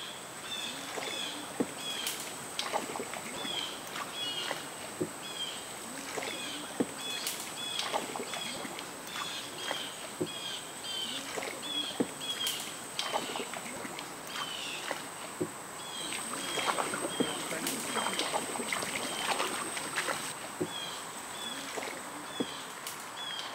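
A boat moving along a narrow forest canal, with soft steady water wash and light splashing throughout, joined by scattered faint bird calls and small rustling sounds from the surrounding woods.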